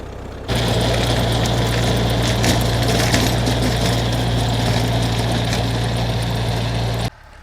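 A tractor engine drives a DTZ FN 1.60 mulcher on rough virgin field ground, a loud steady drone and hum that starts abruptly, runs unbroken for several seconds, then cuts off.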